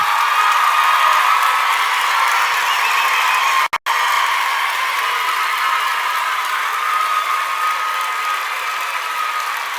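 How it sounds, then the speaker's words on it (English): Families applaud at a university graduation ceremony for medicine and health sciences, a dense, steady roar of many hands clapping throughout, broken only by a momentary dropout, with no talk over it. "Are there any families who feel that they didn't get a chance to clap enough?"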